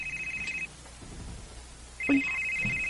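A mobile phone rings with an incoming call: a steady electronic ringtone plays, stops for over a second, then starts again, fairly loud against a quiet room.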